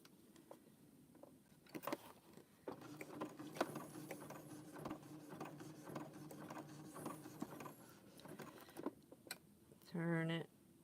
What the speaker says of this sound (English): So all I'm doing is stitching it to the bowl.